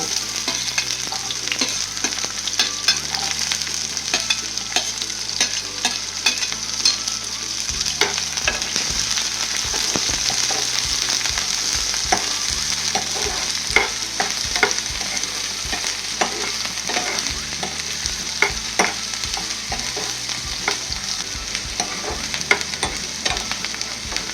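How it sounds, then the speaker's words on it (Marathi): Chopped onion fries in a pan for a spicy, rustic sandgyachi bhaji, a dry curry of sun-dried lentil dumplings. A steady, close sizzle runs throughout with no one talking, broken by frequent scraping taps as the onion is stirred. "कांदा छान भाजत आला."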